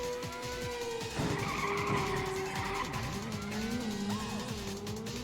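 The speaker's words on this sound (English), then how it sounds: "The roar of the engine is, of course, always appropriate in such a game." Racing car engine in Ridge Racer on the PlayStation, roaring steadily throughout with shifting pitch and tire skids layered over the drone, close and loud with no talk.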